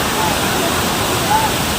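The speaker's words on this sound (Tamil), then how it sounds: "எல்லா அருவிலையும் பயங்கரமான வெள்ளப்பெரு" Heavy floodwater pours down a waterfall at Courtallam in a constant, dense roar that fills the whole moment, with a faint voice barely audible beneath it.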